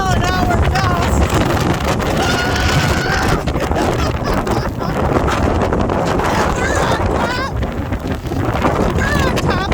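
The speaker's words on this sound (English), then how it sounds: "reported 45 mile an hour sustained winds with 60 mile an hour gusts" Strong blizzard wind on top of a beach dune by a boardwalk, heavy roaring gusts buffeting the microphone continuously and loudly, with a person talking over the din.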